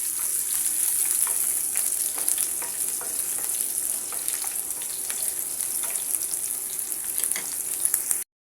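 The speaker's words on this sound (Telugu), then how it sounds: "ఆయిల్ పెట్టేసి మనము కట్ చేసుకున్న ఆనియన్ తెల్లగడ్డ కదా రెండు వేసుకోండి వీటిని ఒక రెండు మూడు నిమిషాలు ఫ్రై అవ్వనివ్వండి" Chopped onion and garlic fry in hot oil with a steady close sizzle and crackle, plus scattered pops and light stirring scrapes, lasting several seconds before stopping abruptly; no talking.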